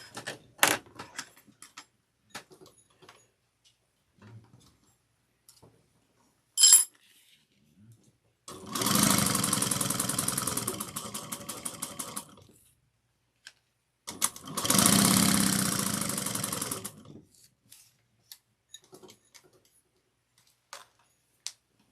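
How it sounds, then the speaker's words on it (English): A sewing machine top stitching an eighth of an inch along the long sides of a fabric piece, in two rapid, steady bursts of several seconds each, separated by quiet and a few small clicks and handling taps. "we're gonna top stitch 1/8 of an inch on the long sides"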